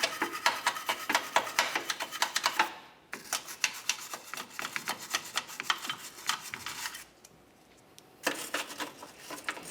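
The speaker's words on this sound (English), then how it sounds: "Use a wire brush, clean it up," A wire brush scrubs the front subframe mounting area of a 2004-2006 Scion xB, giving repeated rasping strokes up close, broken by two short pauses.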